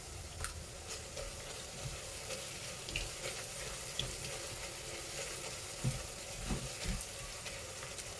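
Onions sizzle in a pan with salt added, cooking for a thick red chicken kurma; a low, steady frying hiss runs throughout with occasional soft stirring clicks and scrapes, fairly quiet and close.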